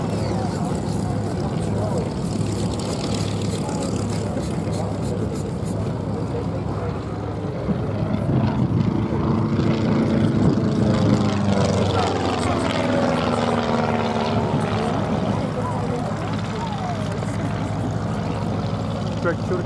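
A propeller aeroplane, a LeVier Cosmic Wind or Stearman, drones overhead at Duxford Airshow, its engine note rising and sweeping as it passes during a flying display, with a commentator's voice over it.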